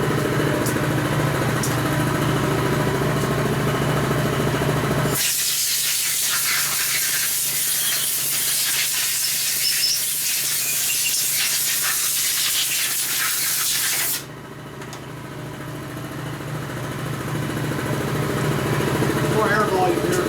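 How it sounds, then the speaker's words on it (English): Compressed air nozzle hissing loudly and continuously for about nine seconds during a Harley-Davidson FXR Evolution 80ci motor rebuild in a workshop, with broadband noise cutting in and off abruptly over a background hum and some talk. "That air nozzle makes more noise than work."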